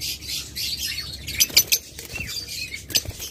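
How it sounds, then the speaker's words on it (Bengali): Violet opaline lovebirds of a high mutation flutter about, their soft wingbeats coming in short bursts alongside high chirps at close range. "এবার আপনাদের কিছু হাই মিউটেশনের লাভবার দেখাবো।"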